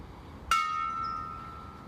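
A single memorial bell struck at a Memorial Weekend flag raising ceremony, one bright clear strike that rings on with a long, slowly fading tone over quiet outdoor ambience.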